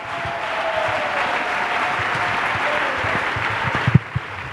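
An audience at a church gathering applauds in a sustained, even burst of clapping that tapers with a few louder claps near the end.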